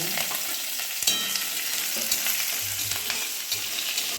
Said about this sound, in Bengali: বাদাম এবং লঙ্কা আমার প্রায় ভাজা কমপ্লিট